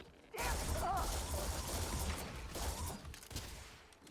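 Gunfire in the Starfield video game: a dense, loud volley of shots and crashing impacts fills the clip continuously, with a faint voice underneath.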